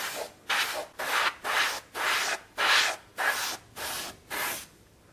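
An airbrush sprays paint onto a diorama in about nine short, even hissing bursts with brief gaps between them, close and clear with no talking.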